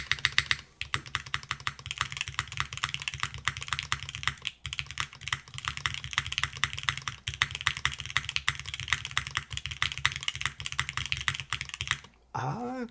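Steady, fast typing on an Aepex 60 mechanical keyboard with light granite switches and a GMK spacebar keeps up dense, close clacking for about twelve seconds, then pauses briefly as a voice is heard.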